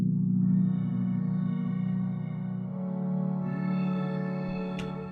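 A sustained pad accent synth in FL Studio for a jungle/drum and bass track, warm layered chord tones holding steadily, shifting pitch midway and swelling brighter toward the end, with no voices.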